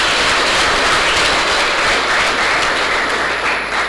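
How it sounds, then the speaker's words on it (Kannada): An audience claps loudly and continuously, a dense, close wash of applause that holds steady and fades slightly at the end. "ಒಂದು ಚಪ್ಪಾಳೆ ತಟ್ಟಿವಲ್ಲ"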